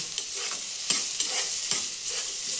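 Onions frying in oil for a village-style palak paneer, a steady close sizzle broken by a few sharp scraping stirs of the pan, with no voices.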